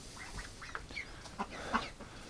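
A few soft, distant quacks from a rescue flock of ducks, some of them lame, break up a quiet outdoor background in short, scattered calls.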